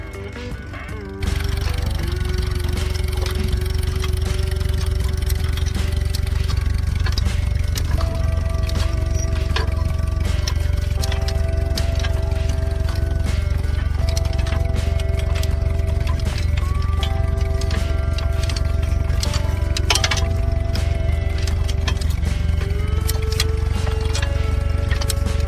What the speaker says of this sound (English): Nowadays, it has been adapted to be towable by a modern tractor.